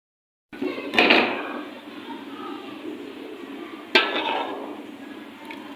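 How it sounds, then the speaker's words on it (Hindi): Chicken korma is served from a cooking pot into a dish, with metal utensils clanking against the pot twice, sharp loud clinks followed by softer scraping and rattling nearby. "अभी बर्तन में भी निकालते हैं।"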